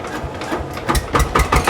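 A second-hand Changchai diesel engine fires up nearby, its rough, thudding beats growing stronger and more regular toward the end as it catches.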